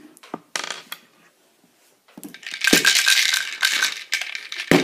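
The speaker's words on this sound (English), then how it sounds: "So you have to push and pull the lever to get the sweets." Lego candy machine dispensing sweets after its lever is pushed and pulled: scattered plastic clicks, then a loud rattling cascade of small sweets tumbling out for a couple of seconds, with sharp knocks at the end.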